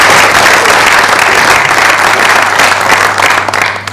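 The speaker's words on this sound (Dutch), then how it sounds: "In ieder geval applaus voor" Loud, dense applause from an audience fills a panel discussion hall, many hands clapping in a continuous roar that holds steady and then begins to taper off at the end.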